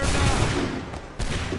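Loud, dense volley of musket gunfire in the video game Assassin's Creed 3, a sustained roaring burst of overlapping shots with a short dip before a fresh blast near the end.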